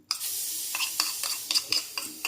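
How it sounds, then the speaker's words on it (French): A paste of garlic, turmeric and onion fries in a dry wok with no fat, making a quiet sizzle punctuated by repeated sharp stirring scrapes at a fairly regular pace. "On va faire revenir un petit peu comme ça le pâte là."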